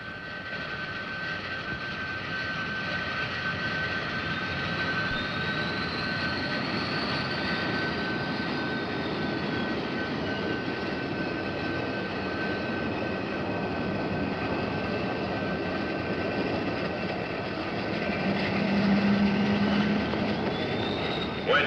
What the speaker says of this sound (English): Start jets.